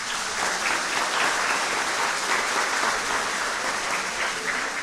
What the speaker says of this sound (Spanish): Un aplauso a su memoria.